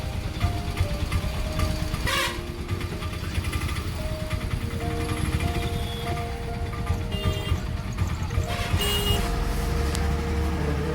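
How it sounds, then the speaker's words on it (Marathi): Traffic jam in the narrow market street of Kelshi village in Konkan: a steady rumble of idling engines and vehicles nearby, with occasional horn beeps and clatter over the din. "केळशीवरून ट्रॅफिक जाम."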